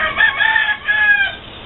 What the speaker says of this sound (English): He's a silver tufted Phoenix rooster.